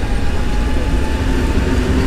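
A Koleje Mazowieckie regional electric multiple unit pulls out of Warszawa Wschodnia station, giving a steady, loud low rumble and rolling rail noise that holds without break for about two seconds.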